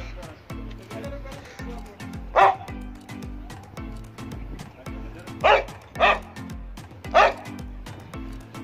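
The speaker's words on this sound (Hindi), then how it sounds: "ये हैं जी डॉग्स इन्होंने रखे हुए हैं" Kept dogs at a factory garden in Faisalabad bark in several sharp, loud yelps spaced apart, close by, while someone talks continuously beneath and between them.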